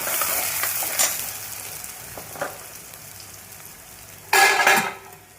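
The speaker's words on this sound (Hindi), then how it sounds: "तो हम प्याज को भी भून लेंगे।" Onions frying in a kadhai give a steady, close sizzle with a few stirring scrapes, and a louder burst of stirring near the end.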